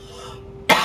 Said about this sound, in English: I'm gonna be sniffling and coughing a little bit